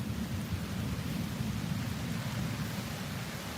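A summer thunderstorm in Tulsa, Oklahoma, with rain and picking-up wind, recorded from a front porch, makes a continuous dense low rumble and hiss of steady rainfall, even and unbroken throughout with no voices.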